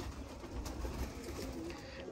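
Domestic flying pigeons coo in low, soft, drawn-out calls over a steady background hiss, with no talking.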